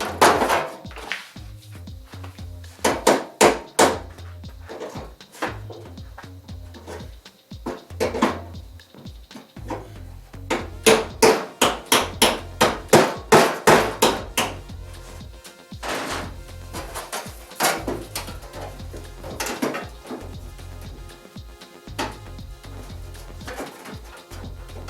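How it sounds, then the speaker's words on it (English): A big hammer striking metal while an aluminum dash is mounted in a drag race car build, heard as clusters of sharp, loud rapid blows separated by pauses, over a low steady hum. "You heard that big hammer?"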